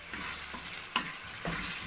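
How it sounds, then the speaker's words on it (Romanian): Tomatoes are stirred into a sizzling paste in a pan for stewed green beans, the spoon scraping a few times against the pan over the steady frying hiss. "Adăugăm roșiile, amestecăm bine, bine."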